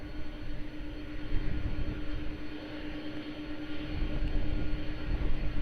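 A plane takes off from runway 02 at Lisbon Airport, a steady distant engine roar with a low rumble that swells slightly toward the end, no talking.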